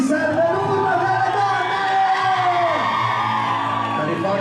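Women in a nightclub audience at a dance-night show scream and whoop together in a loud, sustained wave of high cheering and yelling that fills the whole stretch.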